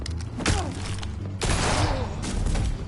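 In the Batman Telltale game, loud gunshots crack out twice, a sharp blast near the start and a heavier booming shot midway, with a voice briefly heard around them.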